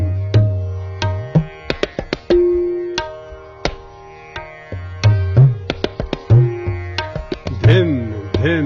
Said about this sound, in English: with language of tabla it sounds like this